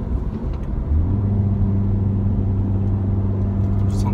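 Audi A3 8V (2013) small-displacement engine cruising on an expressway, a steady low rumble with constant road noise that swells slightly after the first second and holds even throughout.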